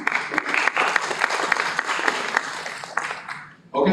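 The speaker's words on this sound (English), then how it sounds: "Big round of applause for him." A conference audience at an AI-driven retail transformation event claps warmly for a presenter, a steady wash of many hands that fades out, followed by a short sound at the very end.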